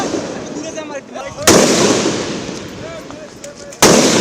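Sound grenades thrown at protesters during a student march toward Shahbag, with sharp loud bangs bursting out of a noisy crowd background, two big blasts standing out a couple of seconds apart.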